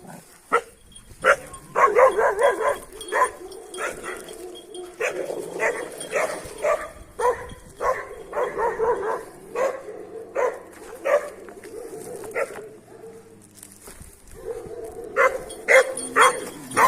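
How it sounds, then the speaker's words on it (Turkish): A dog barks repeatedly in quick bursts, close and loud, with brief pauses between volleys. "Burada bir köpek var."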